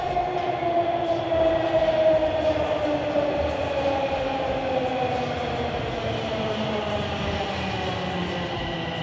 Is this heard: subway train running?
yes